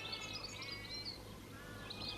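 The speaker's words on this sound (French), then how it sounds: "Regardez les oiseaux du ciel." Small birds chirp and tweet in short high bursts over a soft steady background hum, moderately close, with no voices.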